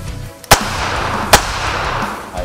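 Two sharp gunshots ring out during tactical shooting training outdoors, spaced almost a second apart, each a loud crack over a low rumbling background.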